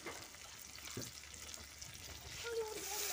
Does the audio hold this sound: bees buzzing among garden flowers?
no